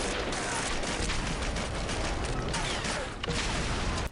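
Dense, continuous automatic gunfire and explosive bursts from the shooter video game Red Faction 2, loud and sustained throughout with a sharp cutoff at the end.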